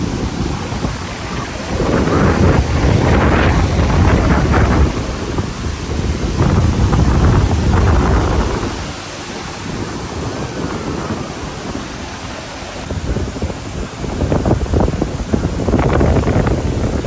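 Strong wind buffets the microphone while heavy surf crashes on Boracay beach in stormy season. Loud roaring gusts and breaking waves surge and ease in several long swells.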